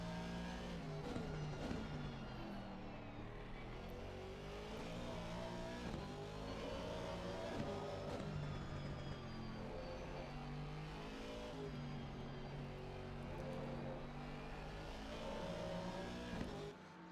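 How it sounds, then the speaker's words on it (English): Aston Martin race car in a racing video game at the Hungaroring, engine notes rising and falling through repeated gear shifts and revs, sustained and loud with other cars audible, no talk. "Beautiful notes there from that Aston Martin"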